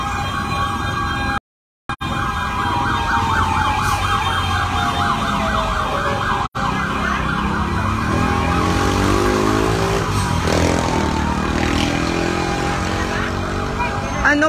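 Wailing sirens of fire trucks responding to a residential fire at Almeda corner Tayuman, Sta. Cruz, Manila, rising and falling loudly amid heavy street traffic noise, with a voice talking over it.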